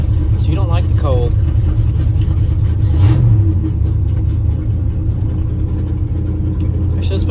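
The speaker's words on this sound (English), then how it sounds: "She's running a little choppy this morning. She don't like the cold." A 1979 Ford F250 engine idles roughly in cold morning weather, a steady low rumble with an uneven, choppy pulse running throughout, with someone talking over it.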